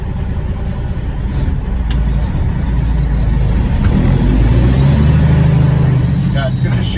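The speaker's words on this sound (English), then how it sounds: "I'll record shifting through the lights a little bit." Truck rolling through traffic lights in North Bay, a steady loud low engine drone with rising revs as it shifts gears, heard from inside the cab.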